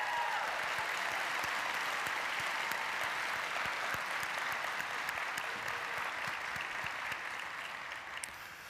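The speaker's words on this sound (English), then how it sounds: "Please join me in giving our campus leaders a round of applause" A commencement crowd gives campus leaders a round of applause, a dense, sustained wash of many hands clapping at an even level before tapering off slightly at the end.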